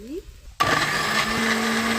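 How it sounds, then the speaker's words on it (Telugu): A mixer grinder starts abruptly and whirs loudly and steadily, close by, blending sautéed onion, capsicum and tomato with salt, after a brief moment of quiet. "మిక్సీ జారులో వేసి"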